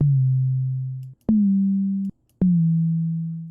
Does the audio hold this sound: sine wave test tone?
yes